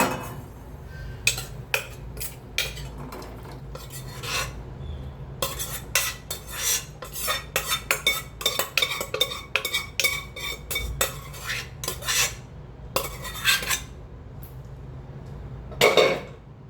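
A metal spoon scrapes and clinks against a pot again and again in quick irregular strokes, close up, scooping cooked tindora (ivy gourd) curry, with no one talking.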